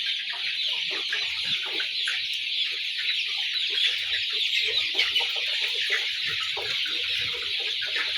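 A large flock of 40-day-old brown cock chickens in a poultry shed clucks and chatters constantly, a dense, even crowd of bird calls with no talk.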